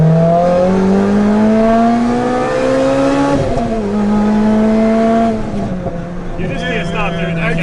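A Lotus Exige S with a 1.8 liter engine revs loudly up and down through several climbing and falling tones, exhaust note rasping close by, with a brief lull between pulls.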